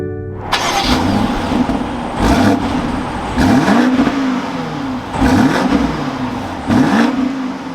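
A 2022 BMW X6 M50i engine fires up, settles to a steady idle, then gives several sharp, loud revs at regular intervals, each rising and falling back, with no talk.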